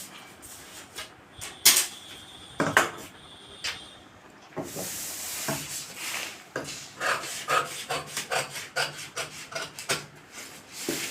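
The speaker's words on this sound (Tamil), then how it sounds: "இப்போ அழகாக நான் வெட்டுறதை எல்லாரும் கவனிங்க" Scissors cut cloth for a chudithar pant with repeated crisp snipping and rasping strokes, first in a few separate loud cuts, then in a rhythmic run of closer, steady snips.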